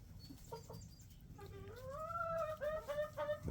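Chickens in a coop on a farm, hens and roosters together, clucking close by with rising, drawn-out calls and short bursts, loud and clear with no talking.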